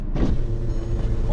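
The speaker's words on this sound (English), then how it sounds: "open the roof." A car's power roof opens with a steady electric motor whirr inside the cabin, starting abruptly and running continuously at close range, with no talking.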